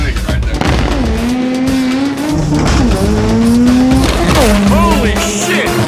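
A Chevy S10 truck launches in a loud, close drag race, its engine roaring through rising gear pulls while tires squeal and skid continuously, with crowd or voices faintly mixed underneath.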